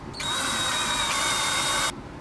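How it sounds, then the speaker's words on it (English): A power drill with a metric bit opens a hole to 4 millimetres in a 3D printer part, one loud steady whine running about two seconds close by, then cutting off abruptly with no talk. "so I drilled it up to 4 millimeters just there"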